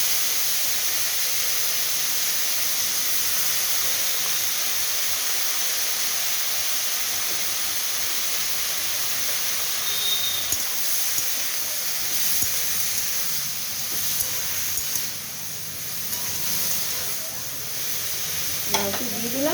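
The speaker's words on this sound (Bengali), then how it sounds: "এরপরে আমি লাউগুলো দিয়ে দিচ্ছি।" Bottle gourd fries with onion in a pan, a loud continuous hiss and sizzle close up, with occasional stirring clatter near the end.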